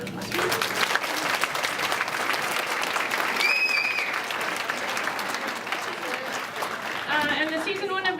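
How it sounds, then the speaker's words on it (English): A crowded room at a ringette team gathering breaks into sustained applause, dense clapping with cheering and chatter mixed in, and a brief high whistle partway through. "Round of applause."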